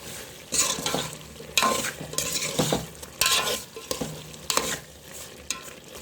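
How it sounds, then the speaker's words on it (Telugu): Chili powder being stirred into a pot of sambar, a spoon scraping and swirling through the thick mixture in several distinct strokes, with a soft sizzle running underneath throughout, close and fairly clear. "కారం అంతా కలిసేలాగా మిక్స్ చేసుకోవాలి."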